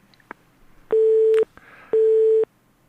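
A telephone busy signal sounds during a radio phone-in call, two loud, steady beeping tones with a short gap between them, after a few faint clicks.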